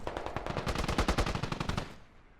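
Rapid machine gun fire in a video game gunfight: a steady rattling burst of close, loud shots lasting about two seconds, then cutting off abruptly, with no talking.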